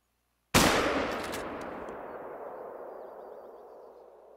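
A single loud rifle shot from the hunting video game theHunter: Call of the Wild, a sharp blast that rolls into a long, slowly fading echo lasting several seconds, with no talk.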